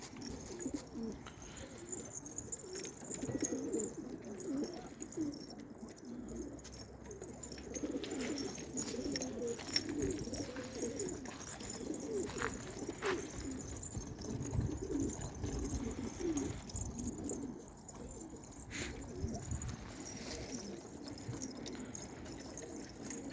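A flock of pigeons kept for flight training coos softly and continuously, with overlapping low calls and occasional wing or movement noises at a moderate distance; no one speaks.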